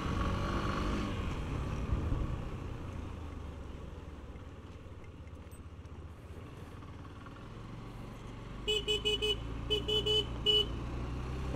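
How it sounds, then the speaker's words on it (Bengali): Recorded from a motorcycle rider's helmet microphone on the road, a low engine and road rumble runs steadily, then a vehicle horn gives a quick burst of several short toots near the end. "হর্নের সাউন্ড আমার কাছে একটু কম মনে হচ্ছে"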